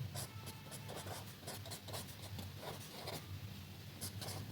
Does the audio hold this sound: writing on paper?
yes